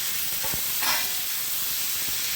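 A prawn, eggplant and potato curry is stirred in a pan over low gas. It gives a constant bright sizzling hiss, and a few soft scraping knocks come as the spoon moves through the spiced mixture.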